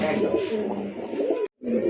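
Giribaz highflyer pigeons from Old Dhaka coo close by in a continuous, throaty murmur, broken by a brief silence near the end.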